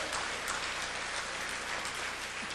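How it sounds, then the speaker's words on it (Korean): A church congregation claps briefly during a worship service, a short burst of dense, even applause filling the hall with no talking. "박수 한번 쳐보세요."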